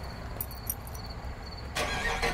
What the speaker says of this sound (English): Here, let me start it for you while I'm underneath the car